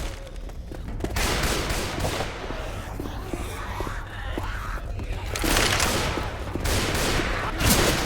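Heavy gunfire in the zombie game Left 4 Dead 2, dense and continuous, with layered shots and blasts filling the scene at close range and intensifying in the later seconds.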